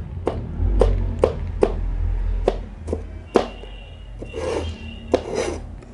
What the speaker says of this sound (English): So you can see I'm chopping it real fine here.